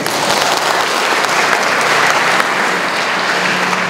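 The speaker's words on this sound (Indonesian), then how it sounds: "Tepuk tangan Bapak Ibu sekalian" A large university lecture audience of students at Universitas Negeri Manado claps loudly and continuously, a dense sustained wall of applause filling the hall with no voices over it.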